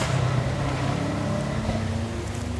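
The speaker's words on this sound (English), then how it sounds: "Little handbrake turn action there mid-corner" A Subaru rally car on a dusty stage slides through a handbrake turn mid-corner, a loud continuous engine drone with shifting tones and gravelly rush from start to finish.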